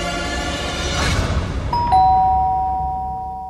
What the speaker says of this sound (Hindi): दरवाजे की घंटी ने उस बच्चे को हर्ष की मार से बचा लिया